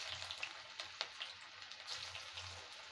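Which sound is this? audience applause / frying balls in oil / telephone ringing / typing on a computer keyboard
frying balls in oil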